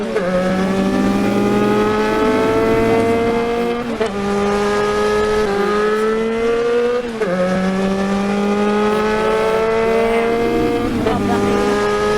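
A car in the video game GTA drives with a steady, loud engine drone whose pitch rises and dips as it shifts and accelerates, and faint tire squeals sound throughout.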